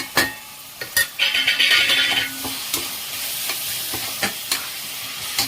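Tomato added to a ground paste of cashew, ginger, garlic and fennel, frying in a pan for mutton biryani, with a steady sizzle, a loud hiss burst and sharp clinks and scrapes of stirring.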